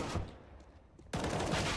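Counter-Strike gunfire on the Mirage map during a tournament match: a burst of rapid automatic shots, a brief lull, then a louder sustained volley close up.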